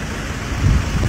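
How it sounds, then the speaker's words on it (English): Steady heavy rain pouring down outdoors on a hot day in Kuala Lumpur, a dense continuous hiss with low rumbling wash, loud and close with no talk over it. "I've been waiting for this moment, for it to rain, and I'm just outside here, just enjoying this heat and this rain just pouring down on my face"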